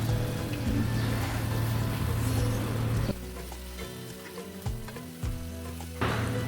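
Chicken frying with onions and spices in a pan, cooked with bottle gourd, a loud steady sizzle and crackle that shifts in texture partway through, with stirring underneath.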